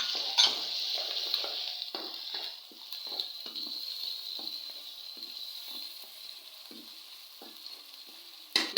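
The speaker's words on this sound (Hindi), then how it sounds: "लहसुन अदरक का पेस्ट ज़रा सौते करेंगे।" Garlic ginger paste and onions sizzle steadily in a pan for chicken tikka handi, while a spoon stirs and scrapes against the metal in regular strokes with no talk.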